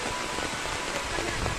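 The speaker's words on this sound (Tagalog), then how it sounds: "naabutan na tayo dito ng ulan, guys" Steady rain pouring onto surfaces near a riverside hut, a dense continuous hiss at moderate level with no other clear sounds.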